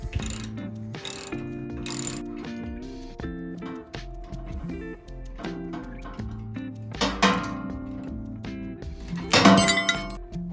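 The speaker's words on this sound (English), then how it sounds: "all you got to do is remove these two bolts right here." A ratchet clicks rapidly in repeated bursts while removing the bolts of a Toyota Tacoma factory tow hook, with metallic clinks and pauses between runs, close and fairly quiet.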